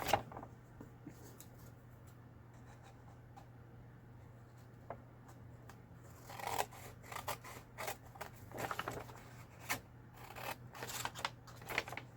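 Scissors snip through a large paper craft tag, giving a run of short, crisp cuts in close succession after a quieter stretch, close and fairly soft over a steady low hum.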